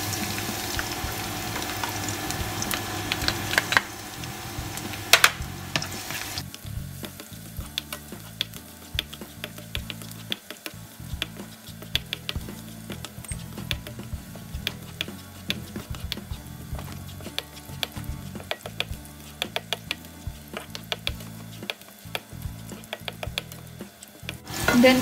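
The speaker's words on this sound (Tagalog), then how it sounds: "Kapag mainit na siya, lagay na natin ang bawang." Steady close sizzle of garlic frying in a hot pan for egg sopas, with light stirring clicks and patter running throughout.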